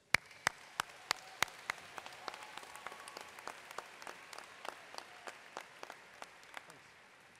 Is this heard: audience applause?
yes